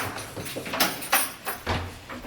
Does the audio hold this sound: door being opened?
yes